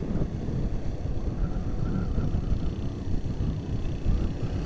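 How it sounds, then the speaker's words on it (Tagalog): Strong wind buffets the microphone along the Tagaytay route, a steady low roaring rumble mixed with engine drone throughout. "medyo lumalakas yung hangin ah"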